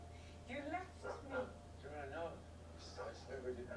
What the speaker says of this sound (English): Oh, the puppies.